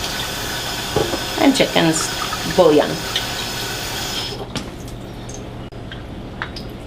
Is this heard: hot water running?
yes